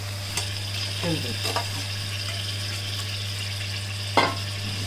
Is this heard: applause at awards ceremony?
no